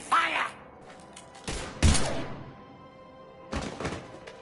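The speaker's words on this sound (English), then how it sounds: "Now open fire!" Gunfire in Mass Effect 3 comes as a few sharp, loud bursts spaced over a few seconds, with quiet gaps between them.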